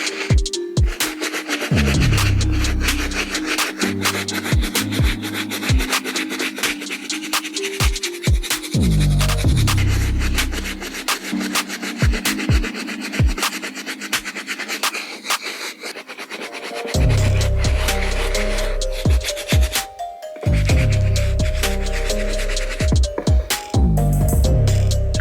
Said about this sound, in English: now that I have scrubbed the uppers by hand